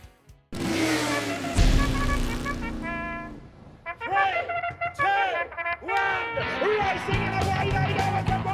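Harley Davidson motorcycles racing in the Hammered Up Cup, engines revving and roaring loudly with rising and falling pitch sweeps as bikes pass close, the throaty drone continuing throughout.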